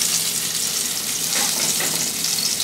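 Salmon fillet frying in hot oil in a pan for blackened salmon, giving a steady close hiss and sizzle that runs evenly throughout with faint crackles and no talking.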